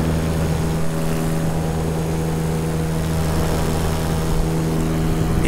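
An electric paramotor's motor and propeller run steadily in flight, giving a continuous tonal hum with a strong low drone and a broadband airy wash. It stays loud and even throughout, with no talking.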